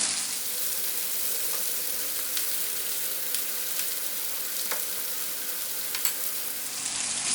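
Mushrooms and garlic frying in a hot pan, a loud, continuous close-up sizzle with occasional faint crackles and pops and no voices over it.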